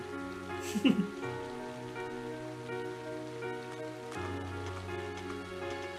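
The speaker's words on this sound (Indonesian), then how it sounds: "Hujan." Rain falls steadily in the video game Trails of Cold Steel, a soft wash beneath sustained background music tones, with a brief louder burst near the start.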